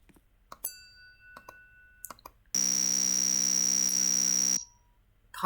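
An elevator alarm button in a Roblox elevator game sounds a loud, steady electronic buzz for about two seconds, preceded by scattered clicks and soft taps.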